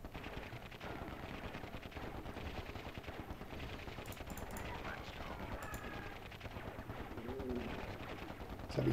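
Faint bursts of rapid gunfire from the PC strategy game Dark Colony crackle continuously, with some distant shots and a quiet voice now and then.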